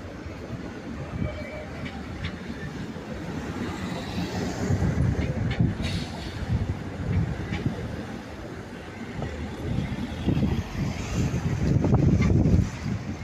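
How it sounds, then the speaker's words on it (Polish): A tram rumbles past in fog, a steady low mechanical roar that swells and fades, with faint squeals and people talking over it. "O, kolejny tramwaj jedzie."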